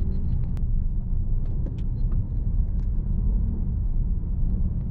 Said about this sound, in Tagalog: Ayan o, magkabila yung traffic.